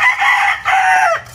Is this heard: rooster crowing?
yes